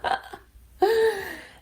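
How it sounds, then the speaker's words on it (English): Two burps from a person, a short one followed by a longer, drawn-out one, close and clear with no talking. "I'm burping right now"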